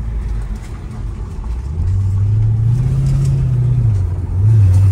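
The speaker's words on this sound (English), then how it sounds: "That exhaust sounds really good." Mercedes SL500 with a Lorinzer kit, its V8 exhaust giving a deep, low rumble that swells and holds steady, close and fairly loud, with no talking.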